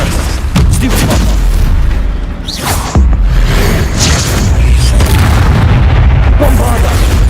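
Bombarda explosion spell in the Hogwarts Legacy video game, several loud booming blasts with whooshes, one sharp burst near the middle, close and dense with a busy background.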